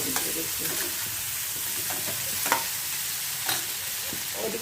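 Sausages and chicken sizzling in a pan for fried rice, stirred with scraping clinks and occasional sharper knocks over a steady, close frying hiss; no talk.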